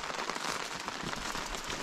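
Rain falling on a canoe camping trip in iffy weather, a dense, close patter of drops on surfaces forming a steady crackling hiss at constant loudness, with no talk.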